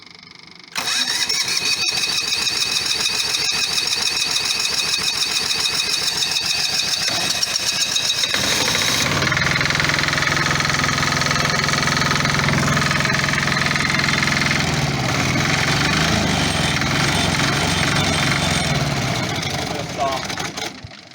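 An MEP 831A military diesel generator engine runs steadily, first with a rough knocking clatter, then at a lower throttled idle with a deep, loud hum, close by and without speech.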